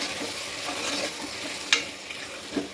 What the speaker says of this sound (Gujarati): હવે સારી રીતે મિક્સ કરી દઈશું